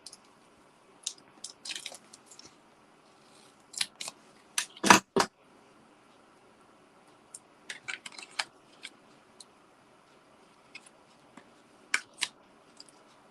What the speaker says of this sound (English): I'm going to have to cut that in half.